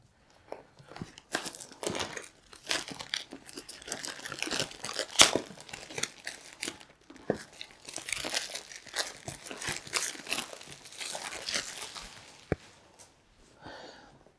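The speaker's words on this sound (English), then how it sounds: "So without damaging it too much, let's get rid of the cellophane." Cellophane wrap being torn and peeled off a DJI Osmo Mobile 3 gimbal combo box, giving close, continuous crinkling and crunching with sharp tearing bursts, fading out near the end.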